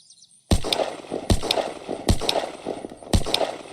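A shotgun in the game Unturned fires four loud, sharp blasts about a second apart, each followed by a short rattling tail, after a brief near-silent start.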